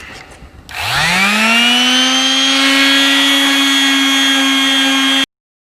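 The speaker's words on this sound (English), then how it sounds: "get them sanded down, do the same thing with probably 220 grit" Power sander on a plastic sewer pipe drum shell, spinning up with a rising whine and then holding a loud, steady tonal drone for several seconds before cutting off abruptly.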